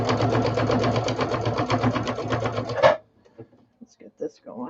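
A sewing machine runs a steady, rapid zigzag stitch onto a fabric project for about three seconds, loud and close, then stops abruptly, leaving a few quiet knocks and handling sounds.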